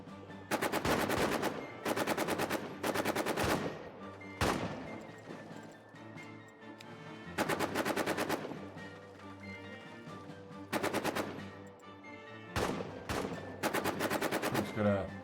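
Bursts of machine gun fire from the World War I trench video game All Quiet in the Trenches, rapid rattling volleys repeating in several loud clusters with short pauses between.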